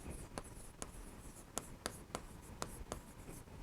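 Pen writing out accounting entries for a non-profit organisation's books, with scratchy strokes and a series of sharp taps roughly every third of a second, close and fairly quiet against low room noise.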